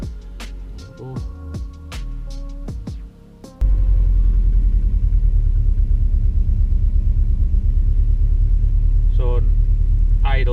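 A Subaru Impreza WRX GC8 engine idles with a steady, loud low rumble that starts abruptly after some musical tones and continues evenly, with a few brief bits of speech over it near the end.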